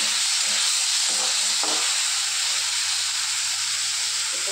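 Garlic paste, tomato and onion frying in a small amount of oil make a steady loud sizzle and hiss, with a few brief stirring clatters and no voices.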